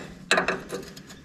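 A ratchet tightening bolts on a John Deere 1010 tractor, a quick burst of several sharp clicking ratchet strokes, close and moderately loud, trailing off into softer ticks.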